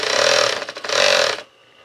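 A noisy high-speed industrial sewing machine with a knocking upper head runs in two bursts, a loud close mechanical whir with rattling clatter, pausing briefly between and stopping abruptly.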